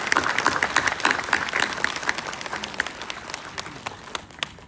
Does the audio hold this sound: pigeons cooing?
no